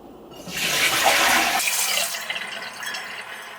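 Water from cooked pad thai noodles pours out in a loud, close rushing gush that cuts off after about a second, leaving a softer trickle and splashing in a sink.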